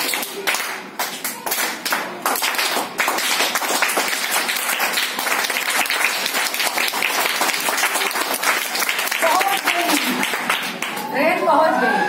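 A class of children claps the rhythmic train clap, quick dense hand claps in a chugging pattern that carries on steadily, loud and close, with voices calling out near the end.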